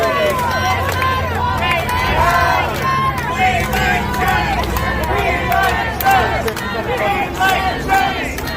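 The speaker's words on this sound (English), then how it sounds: "Let's look at this big crowd." A large protest crowd outside Netflix fills the air with a constant hubbub of many voices, shouting and chanting, close and loud throughout.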